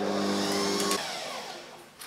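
An electric hand mixer whirring steadily as it beats sugar into a creamy cake batter, a loud, even motor hum that cuts off about halfway through and leaves quieter clatter.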